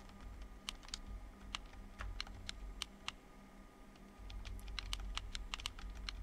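Computer keyboard keys clicked by a player during a game, sharp scattered clicks in short bursts over a low steady background hum, fairly close.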